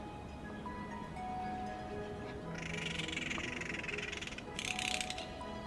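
Corvid calls play back as a string of harsh, raspy bursts of moderate loudness, grouped into two rough clusters over a steady low hum, with no talking.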